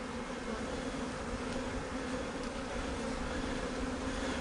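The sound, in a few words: honeybees moving inside a queen cage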